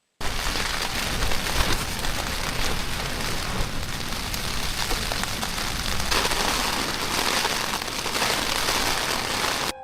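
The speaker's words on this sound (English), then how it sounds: "Heavy rain has fallen through the night" Heavy overnight rain near a beach pours steadily in a dense, continuous hiss, loud and close, with no pauses or voices for the whole stretch.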